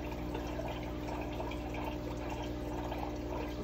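Water pours into a home aquarium during a water change, a faint, steady trickle with no talking.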